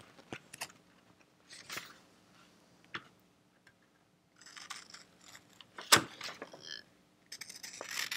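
Scissors cut out a foundation paper-pieced quilt block, giving sparse, quiet snips and paper rustles. A single sharper crisp cut stands out midway, and a few more light cuts follow near the end.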